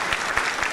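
Brief burst of audience applause at a comedy show, a dense patter of many hands clapping with a few sharper peaks, continuous and fairly loud throughout its short span.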